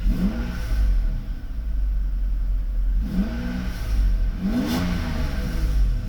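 A Mercedes V12 engine revs up repeatedly during a throttle computer acceleration test, three rising pulls of a close, loud engine over a steady low idle rumble.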